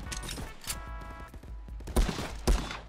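Pistol gunfire crackles in a Call of Duty VR shooter, a few loud thumping shots near the end amid dense game noise and rapid clatter.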